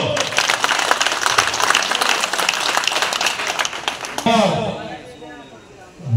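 A crowd claps at a Congress party workers' meeting in Bargarh, loud dense applause that stops abruptly partway through, followed by someone speaking into a microphone.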